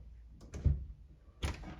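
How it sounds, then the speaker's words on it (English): A car door with a freshly cleaned and lubricated handle lock slams shut twice, two solid close thuds about a second apart, each with a short rattling tail. "the ultimate test is now we'll shut the door"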